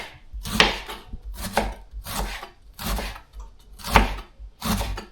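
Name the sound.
knife chopping vegetables thinly for borscht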